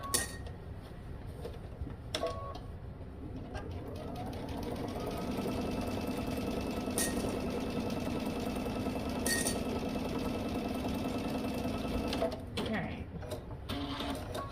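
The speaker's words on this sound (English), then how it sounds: "I just basted it, but I'm gonna go back and put another stitch in it." A sewing machine bastes stitches on a garment, whirring steadily at close range for several seconds after a few brief clicks and handling sounds, then stopping with more small clatters.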